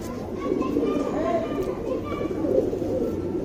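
A pair of regular-breed flying pigeons, a male and a female, coo softly and steadily close by, partly under someone talking.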